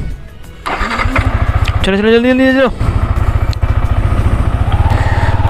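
A Yamaha R15 V4 motorcycle idles with a rapid, even thumping, then a starter whines and cranks for under a second before the engine settles back into a loud, steady idle, while someone talks over it.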